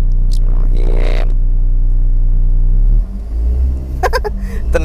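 A 2003 Kia Visto Zip Drive with a 1000 cc engine drives along, its steady low engine rumble continuing throughout beneath a voice.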